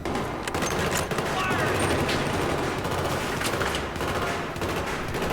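Dense, continuous gunfire from the video game Battlefield 3, with overlapping rapid bursts and steady machine-gun fire, loud throughout, with some voice activity mixed in.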